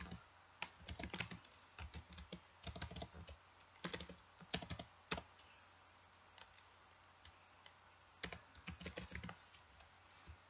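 Typing on a computer keyboard in short bursts of rapid, crisp keystrokes separated by brief pauses, close and fairly quiet, with no talk.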